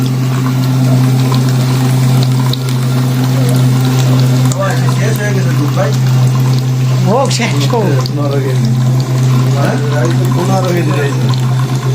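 A hand-cranked cream separator spins milk apart into cream and skimmed milk, giving a steady, loud mechanical hum with liquid trickling from its spouts while people talk over it.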